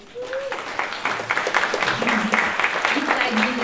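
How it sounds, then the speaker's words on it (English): An audience at a funders' convening applauds elected officials, clapping building from quiet to a steady sustained patter while a voice speaks over the start and continues beneath. "So we'll give a round of applause to Alameda County Office of Education Trustee Genevieve Cole,"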